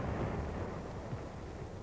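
Heavy 4.2 mortars firing in a barrage in Korean War film footage. It comes across as a deep, muffled, continuous rumble with rolling low booms, distant and rough, with no talk.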